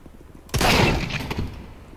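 A burst of shotgun fire in a video game, several rapid overlapping blasts from a rooftop fight that hit hard and fade into a brief rumble, loud and close with no voices.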